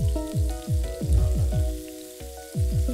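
Scallops pan-frying in leftover oil give a steady near sizzle and crackle, broken up by sharp repeated thuds and clanks from the pan, with no voices.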